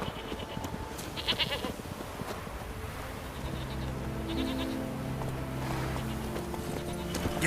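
Horse hooves clip-clop in The Witcher 3, a quick rhythmic trot of close hoofbeats over a low ambient bed with game sounds, the clopping growing steadier in the second half.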